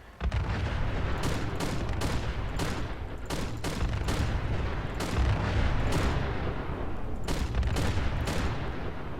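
Rapid, relentless bursts of Fallout 4 weapon fire, an M79 grenade launcher thumping out shots amid continuous explosions and booms, loud and dense with no pauses.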